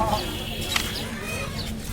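Hill chickens and a turkey cluck at a livestock market, with short clucks over a busy crowd murmur and a voice talking nearby.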